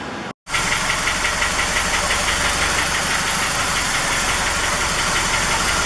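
The engine of a 1979 Toyota Land Cruiser BJ40 runs steadily through its exhaust system with a loud, continuous rumble and faint rhythmic knocking, after a brief cut of silence at the start.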